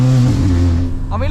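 Volkswagen Scirocco running loud, a deep droning engine note with strong low harmonics that holds steady and then dips slightly, heard up close with a voice speaking over it.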